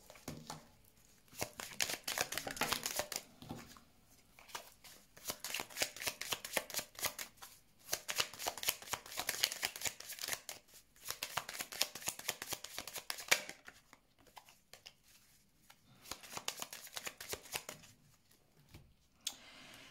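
Playing cards are shuffled repeatedly for a card reading, with several bursts of quick riffling and flicking separated by short quiet pauses, heard up close and fairly soft.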